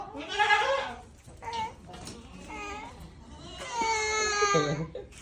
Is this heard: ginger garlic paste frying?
no